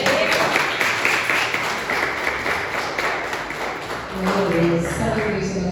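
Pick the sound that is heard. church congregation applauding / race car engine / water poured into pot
church congregation applauding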